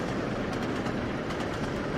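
A train running, heard from its open cab: a steady loud rumble with rhythmic clickety-clack of wheels over rail joints and broadband wind rush, no voices.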